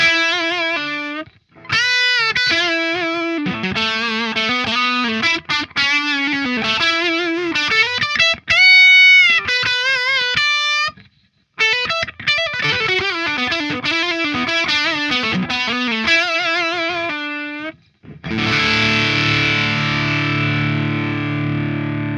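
Distorted electric guitar through a PRS distortion pedal playing a lead line, sustained bends and rapid runs with a few short pauses, ending on a ringing, saturated chord.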